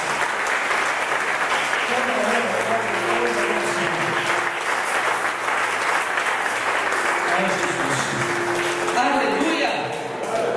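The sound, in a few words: church congregation applauding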